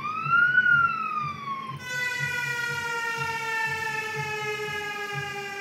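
Police siren sound effect, played alone at a steady level: a wailing electronic tone sweeps up and down, then switches to a sustained lower, bright, harmonically rich tone that holds for several seconds without any talking.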